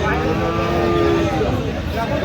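Cattle at Aftabganj livestock market, where Friesian and crossbred bull calves are sold, give a long, loud, drawn-out moo over a constant din of market background noise.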